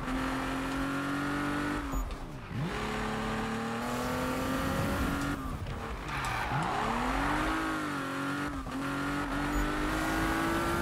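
A Porsche 911 drifts in Need for Speed 2015, its engine droning loudly at high revs with repeated dips and surges as the car slides and the tires squeal.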